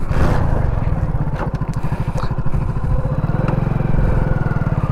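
Motorcycle ridden over an uneven, rough road on throttle alone without using the clutch, with a loud, close, pulsing engine beat, clattering and scraping over bumps, and a slight lull before it picks up again.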